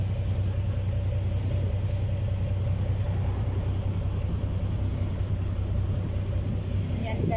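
A delivery truck engine rumbles steadily at close range, a deep, continuous idle throughout with no pauses, and faint voices can be made out beneath it.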